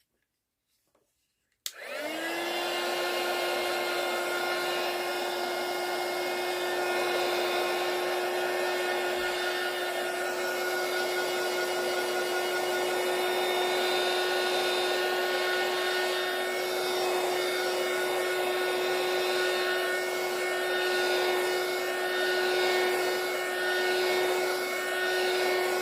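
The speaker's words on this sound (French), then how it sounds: "un petit peu de sèche de heat gun" A heat gun drying paint and napkin decoupage on a painting canvas switches on after a moment of silence, then blows a steady, loud whining roar with a high tonal hum that continues unbroken for more than twenty seconds.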